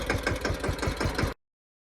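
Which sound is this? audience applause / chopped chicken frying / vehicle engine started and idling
vehicle engine started and idling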